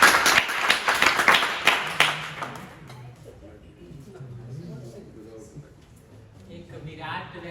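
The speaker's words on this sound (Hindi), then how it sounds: "ताली बजाते रहिए।" An audience claps at a college farewell and honour ceremony for a retiring professor. Several seconds of loud, uneven hand clapping quickly die away, and a voice then speaks into a microphone over a quiet room.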